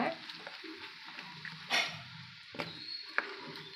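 Gooseberry pickle is stirred in a pan while it sizzles quietly, with a soft, steady frying hiss, a few scraping stirs and occasional small clinks, close but faint.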